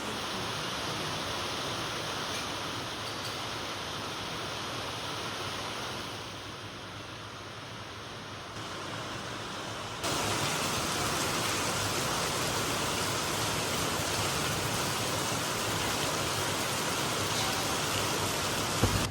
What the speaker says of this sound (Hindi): एक तरफ बहुत तेज बारिश हो रही थी